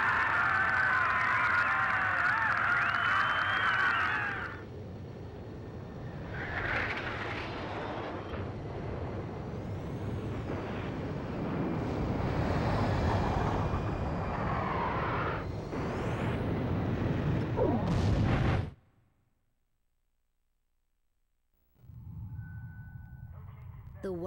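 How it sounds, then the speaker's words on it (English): An SSTO spaceplane climbing during launch in Ace Combat 5, a sustained loud rocket roar with swelling rumble that cuts out suddenly, then a quieter return of engine noise after a pause. "The SSTO is climbing smoothly."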